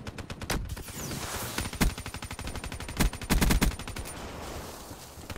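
MR6 gun firing rapid bursts in a multiplayer shooter game, a dense string of sharp automatic shots with louder clustered cracks, loud and close throughout.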